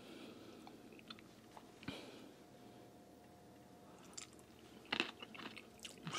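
Crunchy food from a fish instant hot pot being chewed: a few soft, quiet crunches and bites spread over a hushed background, with one sharper crunch near the end.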